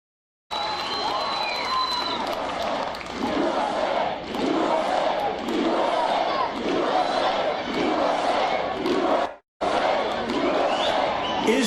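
A large outdoor political rally crowd for Donald Trump in Colorado Springs roars with sustained cheering and shouting, loud and continuous with surging waves, cut briefly by a short gap before resuming.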